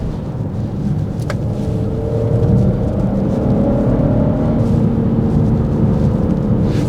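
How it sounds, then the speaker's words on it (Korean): A Genesis GV70 3.5T AWD with active sound switched off gives a steady, close, throaty engine and exhaust drone that builds slightly, with low rumbling and a brief faint click early on. "그런데 그래도 엔진 소리, 배기음 소리가 꽤 공격적이에요"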